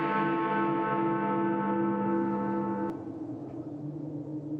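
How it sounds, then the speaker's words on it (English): A neighboring church's chimes strike the hour in a Christmas Carol radio play, one sustained ringing bell tone that hums steadily, then cuts to a softer lingering decay. "the chimes of a neighboring church were striking the hour"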